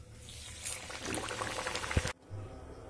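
Chicken patties fry in hot oil with a steady bubbling crackle and a few louder spatters, which cut off abruptly near the end, leaving a quieter background.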